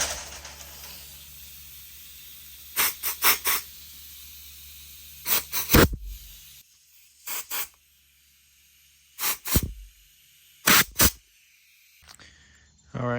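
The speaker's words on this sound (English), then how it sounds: "We'll go ahead and spray this thing with the compressed air to make sure all that carb cleaner is out" Compressed air blasts in short hissing bursts at a cleaned Yamaha TTR 225 carburetor from a 2001 bike, several loud sprays in pairs and clusters separated by quiet gaps.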